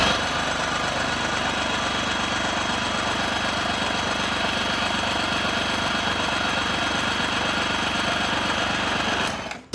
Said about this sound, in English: all we're gonna do is just spin it over and let it shoot out some excess fluid so it doesn't flood our engine